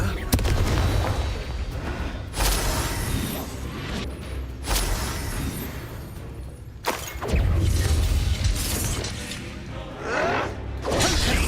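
Confringo fire-blast spells in the video game Hogwarts Legacy go off as several loud booming bursts with rumbling low impacts and crackling debris, separated by brief lulls, close and dominant, while a voice calls out spell names.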